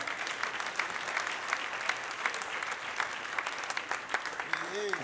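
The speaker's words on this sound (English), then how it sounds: "Let's give a round of applause to my good brothers I soldiered with for the last 20," An audience applauding Public Enemy with dense, sustained clapping that holds steady for several seconds, heard from a moderate distance with a faint voice underneath.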